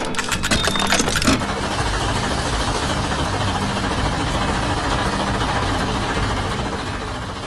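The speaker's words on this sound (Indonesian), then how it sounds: "Traktor biru dengan ban besar sedang berinteraksi dengan peralatan mekanik, membuat kebisingan yang menggema di tengah bengkel yang sibuk." A blue tractor with big tyres rumbles loudly in a busy workshop of an animated farm scene, a steady dense engine drone with brief clanking at the start, continuing throughout.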